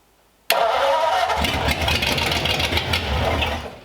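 A hot rod engine in a 1934 Sedan Delivery cranks and fires abruptly, then runs loud and rough at a steady idle with some uneven pulses, close up and with no talk over it.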